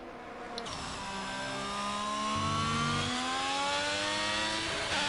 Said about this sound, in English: He's on a hot lap in that Ferrari.